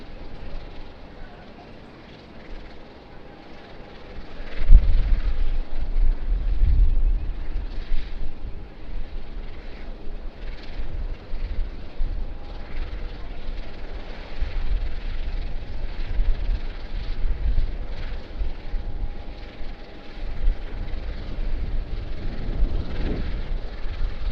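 A Jetstar airliner arriving on runway 16 left at Sydney Airport, a low rumbling engine roar that swells at about five seconds and holds as a broad distant drone, with faint wind buffeting.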